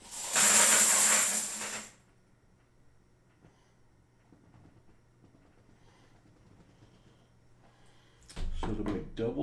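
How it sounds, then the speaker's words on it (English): Coins dumped out of a box, a loud dense metallic clatter and jingle lasting about two seconds, followed by near silence and then a burst of rattling at the end. "Gonna dump coins."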